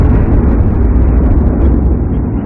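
A loud, deep, sustained rumbling roar, like a massive blast rolling on without a break.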